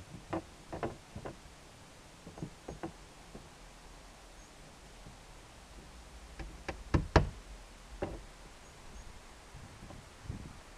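A hammer drives a nail into a homemade shed door notched around its hinges, with two early groups of knocks, then a louder tight cluster of sharp blows near the middle and a few scattered taps after, against a quiet outdoor background.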